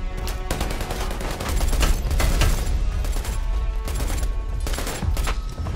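Rapid bursts of automatic gunfire and overlapping shots in the video game Predator: Hunting Grounds, loud and close, nearly continuous across the stretch with brief gaps, no voices.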